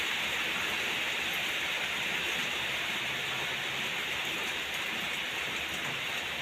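Steady, dense rain from Typhoon Noru pouring down, a constant hiss of drops on surfaces with no pauses and no voices.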